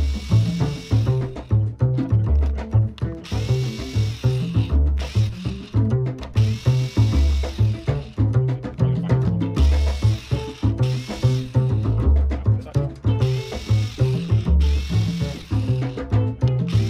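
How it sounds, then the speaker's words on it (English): A power drill whirs steadily and loudly, its motor pitch rising and falling in short bursts as it bores through material, with no talking. "So we're gonna drill a couple of holes along here."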